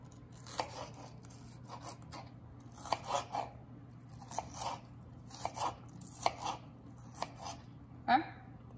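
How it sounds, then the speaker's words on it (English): A knife slicing an onion on a cutting board in a home kitchen, crisp regular chopping taps in small clusters over a low steady hum, close but quiet. "People use cutting up the onion like this way, you know."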